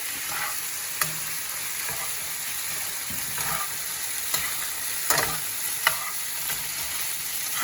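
Pork for gua bao frying in a pan, a constant close sizzle broken by several small clicks and scrapes as the meat is turned.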